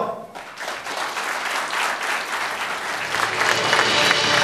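Applause after a speech at a political party's city chapter gathering in Daegu, a hall full of people clapping steadily and growing slightly louder toward the end, with no talking over it.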